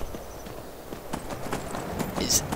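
Horse hooves clip-clop in Skyrim as the steed joins a fight, a loose run of soft thuds on hard ground that sits under steady game noise and speech.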